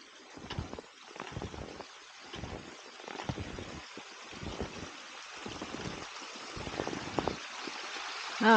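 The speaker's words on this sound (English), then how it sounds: "I hear a more major creek" A creek flows through a snowy forest, with a steady rush of water and bursts of louder splashing and trickling at close range.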